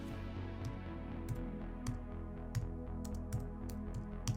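Soft, evenly spaced keystrokes on a computer keyboard, fairly faint and close, over a steady low background hum.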